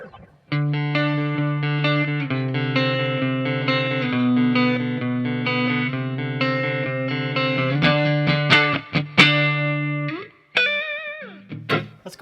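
A 2020 Fender Kenny Wayne Shepherd Signature Stratocaster electric guitar is played through effects, giving distorted, sustained chords and single notes. A run of sharp rhythmic strums follows, then a few ringing, bent high notes, all loud and close with no talking.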